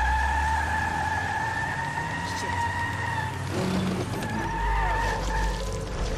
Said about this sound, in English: I'm just gonna be chasing a car.